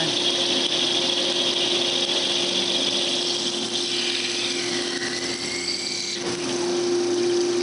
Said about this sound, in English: a little skim cut across the face